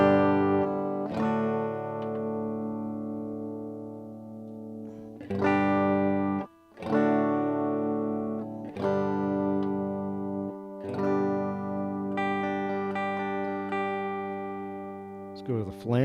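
A chorus setting on the Phenyx Pro PTL-600 six-channel mixing board's DSP: a run of sustained, shimmering instrument notes, played one after another with brief gaps, loud and close throughout.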